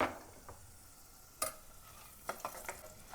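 Cashews are stirred in a frying pan with a faint sizzle, a few soft scrapes and taps of the spoon against the pan at irregular intervals, quiet and close.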